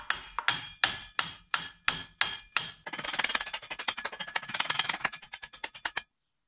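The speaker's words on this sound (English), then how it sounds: "I just slightly tap on the drive shaft and I can feel it moving into the splines" A BMW Z4 E85 drive shaft is struck with a run of sharp metallic taps to seat it onto its splines: about eight spaced, ringing blows, then a quicker, softer flurry of light taps, all close up.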